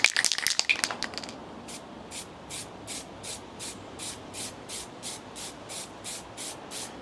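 A sharp hissing burst opens, then a long run of short, evenly spaced spray-can puffs applying top coat on a Land Rover Series 3 follows in a regular rhythm, soft and close.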